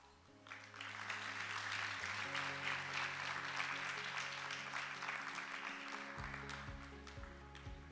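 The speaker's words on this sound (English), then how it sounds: "Please welcome him with a big round of applause." An audience at a G20 global financial stability conference applauds to welcome an opening speaker, with sustained, moderately faint clapping heard over a low hall hum and a soft tonal background.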